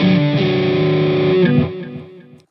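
Distorted electric guitar chords played through a Headrush pedalboard's dynamic delay ring out and repeat faintly with echoing delay before fading away.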